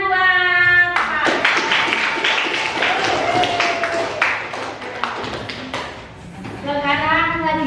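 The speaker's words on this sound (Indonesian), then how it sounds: "Tepuk tangan buat Far" Classroom of students applauding a classmate, a burst of dense clapping that fills several seconds before fading, with a teacher's voice speaking just before and after.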